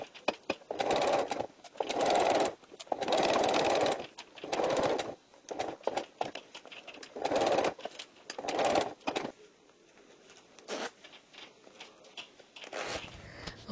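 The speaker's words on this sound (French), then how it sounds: "Marquez bien vos points d'arrêt au début et à la fin de votre couture." A sewing machine stitches a fabric belt bag in short bursts of steady mechanical whirring, separated by brief pauses and small handling clicks, fairly close.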